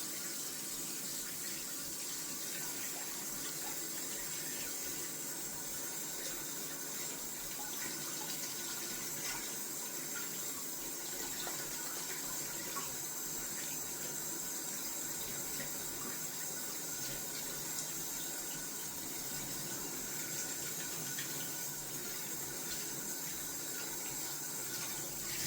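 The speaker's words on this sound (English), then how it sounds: "wash out the brush pretty quick." Steady running tap water washing out a shaving brush after lathering with Mitchell's wool fat soap, a constant broadband rush at moderate level with no talking throughout.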